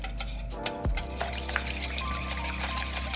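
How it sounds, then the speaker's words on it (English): Seasoned eggs with salt and pepper being whisked in a bowl, a close, steady rubbing and scraping sound with a faint thump near the start. "And now we will whisk this."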